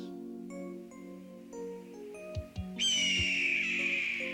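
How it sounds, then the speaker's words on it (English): A hawk calling from Santos Mountain gives a long, loud, descending screech near the end, rising over soft sustained background music. "a hawk calls to him from Santos Mountain"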